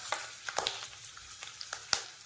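Onions and curry leaves sizzle in hot oil as the base of a garlic pepper chicken, with scattered crackles and pops over a soft, steady frying hiss.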